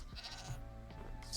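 A Minecraft goat bleats in a short, wavering call near a village, with ambient game sounds around it and a brighter burst at the end.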